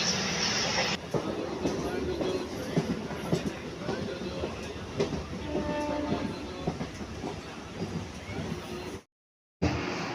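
A passenger train rumbles along the tracks at about 85 km/h with a steady roar and faint rhythmic clatter, continuous for several seconds before briefly cutting out near the end.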